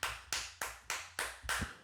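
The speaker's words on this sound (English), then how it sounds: "Let me give him a round of applause" Six slow, evenly spaced hand claps ring out alone, sharp and close, each with a short decaying tail, a single person applauding with no voices over it.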